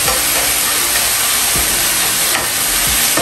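Pork stir-frying in a pan as filling for a crispy Mekong Delta-style bean sprout pancake, with a loud, continuous sizzle and hiss and a few low scraping knocks of stirring.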